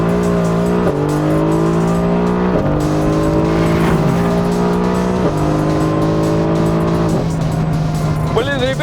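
A Mercedes-AMG GT R and a McLaren 720S drag race with a loud, high-revving engine roar that climbs through repeated gear shifts, while tires squeal during wheelspin and a voice talks over the noise.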